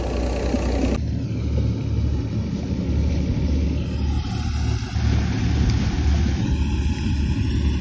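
A tractor-driven wheat thresher runs in a farm field, its engine a steady low rumble and drone that holds through the whole stretch with no talk.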